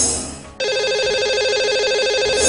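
A telephone rings for a radio show call to a lucky caller, a loud, steady electronic ringtone that cuts in after a brief pause and repeats its bright warbling pattern without any talk.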